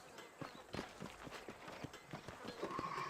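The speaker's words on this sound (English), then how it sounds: "These are fine horses." Horses' hooves clip-clop in an irregular, overlapping patter on the ground in the Red Dead Redemption video game, moderately close and fairly soft, with a faint neigh near the end.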